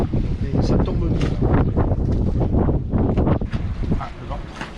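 Wind blows at about 15 knots with occasional gusts aboard a sailboat off the island of Sal, a loud, continuous rushing roar that buffets the microphone throughout.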